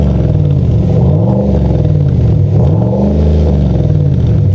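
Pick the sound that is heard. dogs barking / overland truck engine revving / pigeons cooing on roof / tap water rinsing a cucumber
overland truck engine revving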